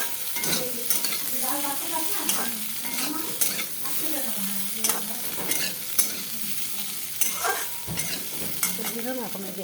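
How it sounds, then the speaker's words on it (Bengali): Spices and potatoes fry and get stirred in a pan for vegetarian potato curry, a steady close sizzle broken by repeated scraping stir strokes, with no talking. "মশলাটা ভাজা ভাজা হচ্ছে, ভাজা মধ্যে সামান্য একটু চিনি দিয়ে দিব।"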